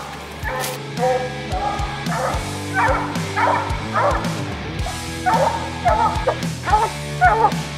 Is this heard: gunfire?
no